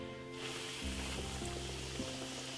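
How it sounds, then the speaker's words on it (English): Steady crackling sizzle of chicken frying in hot oil, close and continuous, with a low hum underneath and no talking. "gonna fry my chicken"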